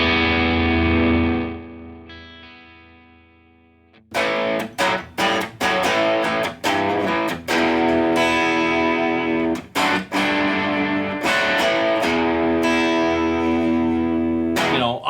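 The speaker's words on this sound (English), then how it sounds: "this is just a big open sounding distortion that I love." Electric guitar through a modded Bad Cat Black Cat 30 amp on a big open distortion, a sustained chord fading out, then choppy strummed chords and ringing riffs with short stops, loud and close.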